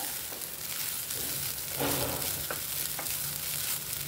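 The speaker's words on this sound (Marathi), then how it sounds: "आता हे परतून घ्यायचं आहे आपल्याला." Wet grated coconut filling for karanji sautéed in a pan, giving a steady soft sizzle with a few light scrapes of stirring, close and continuous throughout without any talking.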